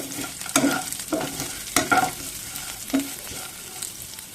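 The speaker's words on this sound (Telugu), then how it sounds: "పచ్చిమిర్చి కావాల్సినంత కరివేపాకు, ఉల్లిపాయ ముక్కలు కొద్దిగా ఇలా కొద్దిగా కలర్ వచ్చే వరకు వేయించుకోండి" Onions, green chillies and curry leaves frying in a pan, stirred with a spatula in a few distinct scraping strokes over a steady low sizzle, close and fairly loud, with no talking.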